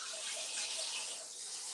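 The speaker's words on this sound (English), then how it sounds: "So put some cold water on again." Cold tap water runs steadily over drained broccoli in a kitchen, a bright, even hiss and splash at close range with slight fluctuations and no talking.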